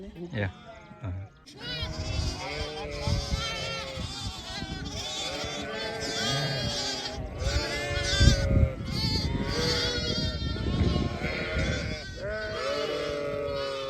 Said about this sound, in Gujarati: બધા બસડા કહેવા મેં મેં કરતા દોડતા દોડતા ગયા